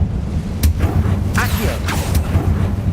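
A Confringo fire-blast spell cast in the video game Hogwarts Legacy: several loud, sharp crackling bursts and whooshes land over a constant heavy low rumble, close and dense across the whole stretch with no clear talk.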